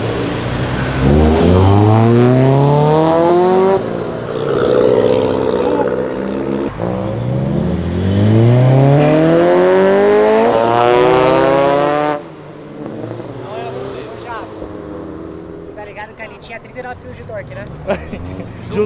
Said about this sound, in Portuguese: É um Gol GT real.